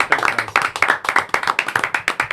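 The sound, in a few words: clapping for Barry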